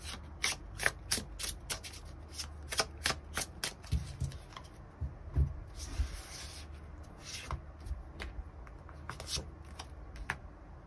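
Tarot cards shuffled and drawn by hand for a love reading, with rapid papery riffles and rubbing strokes repeating in bursts, close and fairly quiet, plus soft handling thumps.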